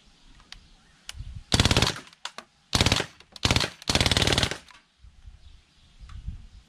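Crosman Bushmaster MPW BB rifle fires full automatic in several sharp rapid bursts of closely spaced shots, loud and near, separated by short pauses and quieter handling noises.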